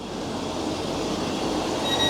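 Continuous low rumble and rattle inside a busy passenger train carriage, steady and moderately loud, with no voices.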